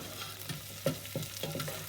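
Onions frying in a pan for a vegetable-stock noodle soup, turning brown and starting to caramelise: a soft, quiet sizzle broken by a few scraping stirs of a utensil, with no talking.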